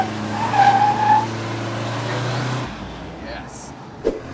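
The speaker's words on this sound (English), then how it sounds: "Nothing lights the tires up like an '89 Caravan Turbo." A turbocharged 1989 Dodge Caravan minivan brake-boosts and squeals its tires, a loud, sustained screech over engine roar that cuts off abruptly, leaving quieter noise and a brief knock.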